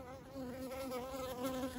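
Guard bees at a hive entrance buzz continuously up close, a steady droning hum with shifting pitch as they attack stranger bees.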